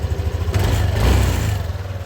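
A Yamaha Aerox V2 scooter engine, just repaired after running rough, idles steadily close by with a low, even drone and a brief rise in revs midway.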